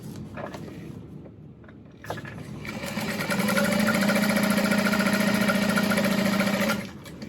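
A sewing machine stitches the bottom onto a bag lining, starting after a brief pause with a steady, loud, close whirring run that holds for several seconds before stopping abruptly.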